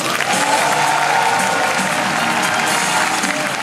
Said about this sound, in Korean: 우리 최병로 군단장님 박수 한번 보내주시죠